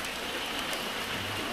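Heavy rain roars in a continuous, even wash of noise with no break and no voices.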